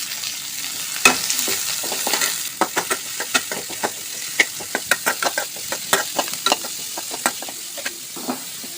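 Chopped onion sautéing in a pan for upma, with green chillies and curry leaves, sizzles steadily while a spoon repeatedly stirs and scrapes in sharp, rhythmic clicks close by.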